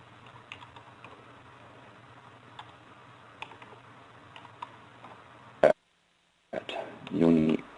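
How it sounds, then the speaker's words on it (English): Typing on a computer keyboard while composing an email in database software, a soft run of light key clicks under quiet background noise, followed by a few louder taps near the end. "If I create a new email, again I have to type something in."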